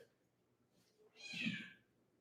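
A large cat gives one drawn-out meow, fairly close and moderately loud, with quiet room tone before it and no talking.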